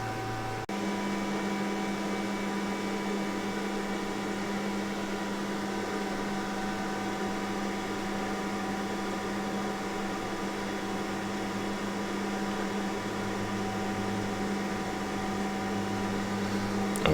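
An Iceriver KS1/KS2 Kaspa ASIC miner runs with its silencer removed, giving a loud, constant electrical whine and fan hum that holds steady throughout with no talking.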